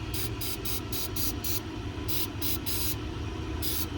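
An aerosol can of Flex Seal rubber sealant sprays in a series of short hissing bursts, some quick and some longer, over a steady low background rumble.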